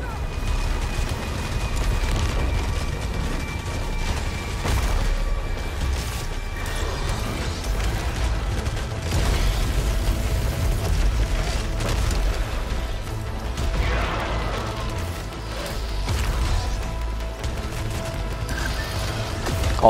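Weapon alternate fire in the video game Returnal, a sustained mechanical grinding and rumbling with creaking, ratcheting textures and intermittent booms, loud and dense for the full stretch.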